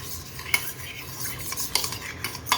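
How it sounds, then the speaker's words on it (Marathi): Thick homemade curd whisked with a spoon in a bowl, quick close clinks and scraping strokes of metal against the bowl, repeated without a break. "हे थोडंसं जरा फेटून घ्यायचं थोडंसं फेटून घ्यायचं आपण हे घट्ट दही"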